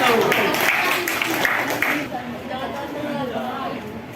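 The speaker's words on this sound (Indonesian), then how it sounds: "Berikan aplaus untuk kelompok 1." A room of people at a school coaching and academic supervision session claps for the first group, a dense patter of hands that is loud at first and then fades into murmured chatter and talk.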